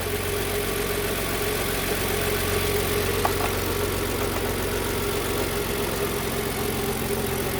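A used Kia All New K7 LPG sedan idles at about 750 rpm after its fast-idle mechanism drops out, giving a steady, close, even engine hum with a low drone and faint mechanical ticking, alone without voices.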